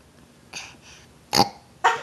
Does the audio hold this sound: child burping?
yes